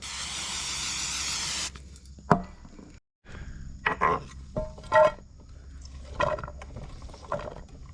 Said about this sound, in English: We'll go down with a little cooking spray here.